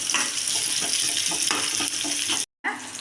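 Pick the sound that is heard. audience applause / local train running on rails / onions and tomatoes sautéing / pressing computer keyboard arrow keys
onions and tomatoes sautéing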